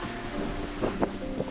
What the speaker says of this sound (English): welcome to a very windy day here in Monastir